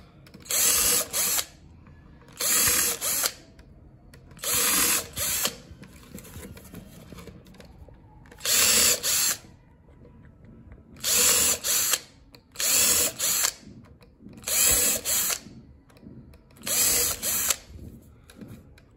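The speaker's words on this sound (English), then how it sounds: "So this is how we drill the holes." Electric drill drilling holes while making bread baskets, running in nine short bursts, each about a second long, with quiet pauses between, close and loud.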